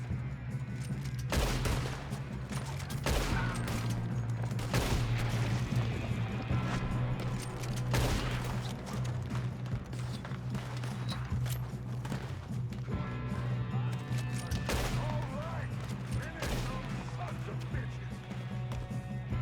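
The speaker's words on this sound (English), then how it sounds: "Good shooting, kid." A gunfire shootout in the video game Red Dead Redemption 2 brings repeated loud shots and volleys over a low steady hum, with sporadic bursts and voices speaking in between.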